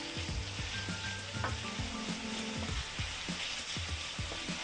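Shredded Swiss chard sizzles with garlic in a pan, a soft, quiet frying hiss broken by scattered stirring taps and clinks.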